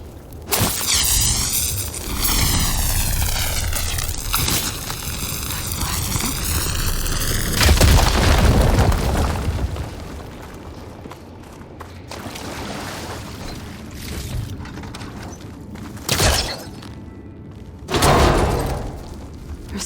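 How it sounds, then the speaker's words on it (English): A fire gleam deposit blows up in Horizon Forbidden West, a loud booming blast with rumbling debris after a rising tone, followed by softer thuds and later sharp impacts. "Should be able to blow up that fire gleam."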